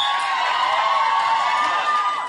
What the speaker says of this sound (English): Don't cheer every time you see him.